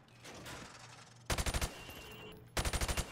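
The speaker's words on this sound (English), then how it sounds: "I want you to shoot the targets through the wood." Rifle shots fired through thin plywood at pop-up targets in Call of Duty: Modern Warfare Remastered, two sharp bursts of about five rapid cracks each, loud and close, separated by a quieter pause.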